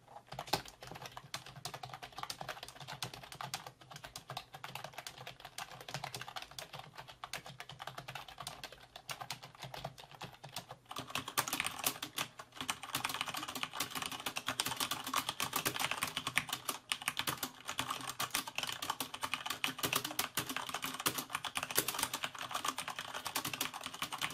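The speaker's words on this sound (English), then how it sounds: "compared to my older HP membrane-based keyboard and the Corsair K65" Continuous keyboard typing, dense rapid keystrokes throughout; softer, muted clatter from an HP membrane keyboard at first, then louder, sharper clicking from a Corsair Vengeance K65 mechanical keyboard for the second half.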